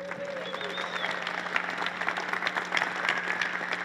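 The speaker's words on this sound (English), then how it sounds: "Give them a round of applause." A conference audience applauds in a room, giving sustained, moderately loud clapping from many people with a faint steady hum and a few scattered voices underneath.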